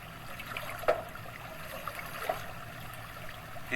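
A tiny stream flows gently past a small spiral-bladed water-powered generator, a soft continuous trickle with a couple of brief splashes.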